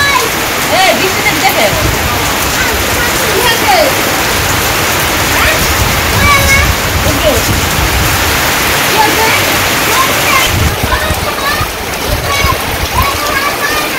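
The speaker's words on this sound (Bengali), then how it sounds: "তারপরে আবার বৃষ্টি শুরু হয়ে গেছে" Heavy rain in a Bangladeshi village during the rainy season pours down in a loud, dense roar, with wind adding to the steady rush and a voice speaking beneath it.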